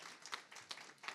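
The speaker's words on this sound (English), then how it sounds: "Just a clap for that one" Brief, scattered clapping from a small audience at a Green Task Force meeting, a few hands patting irregularly for just over a second, quiet and somewhat distant.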